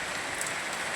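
Steady rain falls in a rural morning setting, a dense even hiss of drops on surfaces with no voices.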